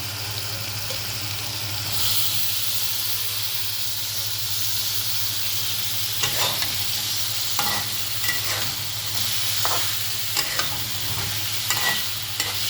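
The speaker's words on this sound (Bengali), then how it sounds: "এবার আমি মাংসটা মশলার সাথে মিশিয়ে বেশ ভালোভাবে কষিয়ে নেব" Boiled duck meat is stir-fried with spice paste in a pan, giving a steady close sizzle and hiss with a low hum beneath and repeated scraping strokes of a spatula, without talking.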